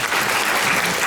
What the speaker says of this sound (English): Another round of applause for Andy and Faye for the wonderful presenta